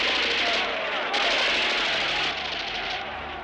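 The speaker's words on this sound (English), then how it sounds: "Give those men covering fire!" Sustained battlefield gunfire from a 1970 war film, dense rattling bursts and booming shots blended into a loud, continuous roar, with shouted voices mixed in.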